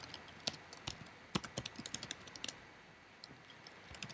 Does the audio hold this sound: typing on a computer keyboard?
yes